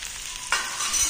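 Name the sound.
dal and tomatoes frying in hot oil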